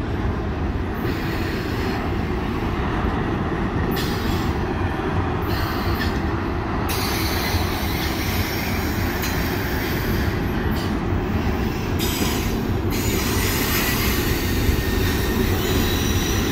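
A CN freight train rolls west through the Pointe-Saint-Charles railyard, picking up speed, with a loud, continuous, close rumble of wagons and wheels and recurring high metallic squeals over the whole stretch, without any talk.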